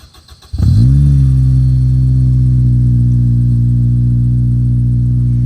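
Acura RSX Type-S engine with an exhaust leak cranks and catches, then settles into a loud, steady, close idle with a deep, even drone.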